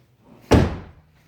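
A freshly installed car door on a frame-up build slams shut with a single loud, close, heavy thunk that rings briefly and fades within half a second, with near silence around it.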